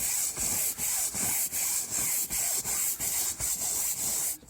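A brush scrubs soapy fabric on the convertible roof of a Saab 9-3, making close, steady rhythmic rasping strokes about three per second with no talking.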